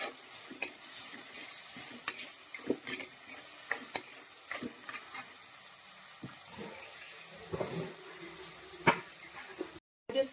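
Ingredients sizzle and fry in a pan after salt goes in, with a spoon stirring and scraping in irregular strokes over a constant hiss, close and moderately loud, sounding like a Kerala-style curry with backwater murrel fish.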